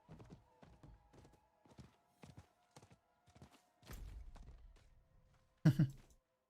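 Horse hooves clip-clop in an uneven series of soft thuds while riding a mount in the Diablo IV video game, with a low rumble midway and a sharper thump near the end, no talking.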